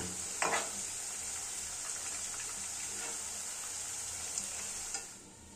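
Oil sizzles steadily in a pan as marinated chicken pieces are turned and stirred with a spoon that scrapes, with a few louder clacks; the hiss fades slightly at the end.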